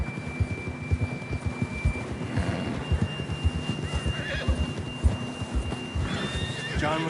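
In the Red Dead Redemption 2 video game, a horse neighs and snorts over steady clip-clop hoofbeats at a trot, with game music and ambience beneath.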